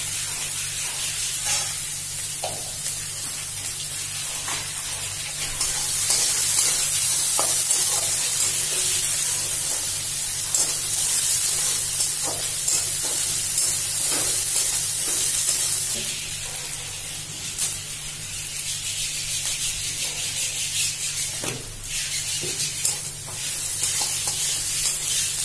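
Onions and potatoes fry in a pan with a steady, bright sizzle and hiss that surges louder in stretches, close up, with no talking.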